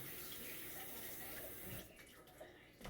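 Running tap water pours over an onion being rinsed at a sink, a soft steady splashing rush that thins out partway through, faint and close.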